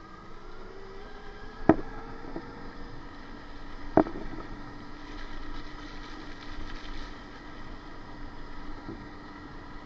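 A BRZ Neon Thunder Pro 72V electric dirt bike rides in first gear, giving off a faint, steady electric motor whine over soft background noise, with two sharp clicks early on.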